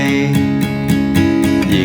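Steady acoustic guitar strumming in an even rhythm, chords ringing continuously and growing slightly louder toward the end.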